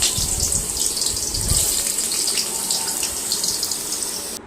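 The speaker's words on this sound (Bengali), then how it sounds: "আলুটা গরম তেলে দিব। তেলটা গরম হয়েছে, এখন আলুগুলো দিয়ে দিলাম।" Potatoes hit hot oil for a fish-roe fry, giving a loud, dense, continuous hiss of sizzling that runs unbroken and cuts off at the end.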